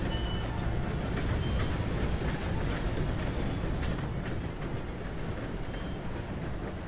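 A train in the video game Red Dead Redemption 2 rumbles past nearby, a loud broadband rush with rattling clatter that slowly eases off toward the end.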